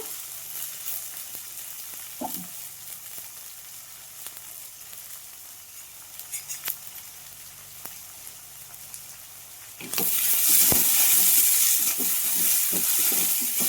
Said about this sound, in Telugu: తరిగిన ఆనియన్స్ వేసుకుంటున్నాను కొద్దిగా కరివేపాకు కూడా